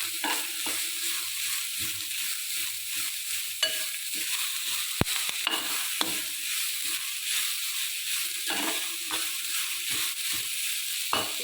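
Rice and chopped banana flower frying in a pan, a steady close sizzle broken by the repeated scrape and clatter of stirring.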